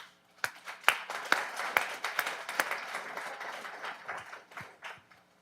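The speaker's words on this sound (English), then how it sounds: "Give yourself a round of applause." Scattered applause from an audience at an engineering ring ceremony, starting with a few sharp distinct claps that thicken into moderate clapping, then thinning and fading toward the end.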